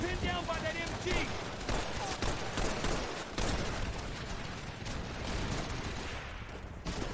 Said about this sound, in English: Guzzo's pinned down by that MG.